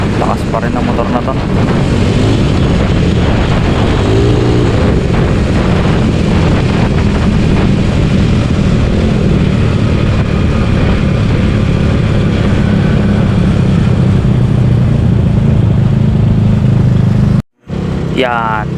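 Yamaha Mio scooter ridden fast at high throttle, a loud continuous engine drone and wind roar from the rider's position, with brief talk over it and a short dropout near the end.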